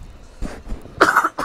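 A broadcaster at a high school baseball game coughs two or three times, short harsh bursts close to the microphone.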